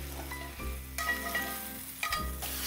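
Watery spinach hitting a hot pan and crackling as it lifts the leftover flavor like a cleaner: a brief close sizzle with a couple of soft stirring scrapes, faint overall.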